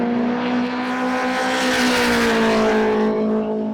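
A 520 whp Subaru BRZ race car at speed on a racetrack, its engine droning loud and close at high revs with a steady tonal whine that shifts slightly in pitch.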